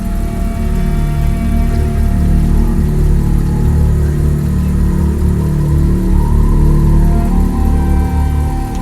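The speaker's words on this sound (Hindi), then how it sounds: "इंजन में तो चालू है" A car left parked in a home courtyard sits idling with nobody inside, its engine giving off a loud, steady, close hum with a faint whir and no change in pace throughout.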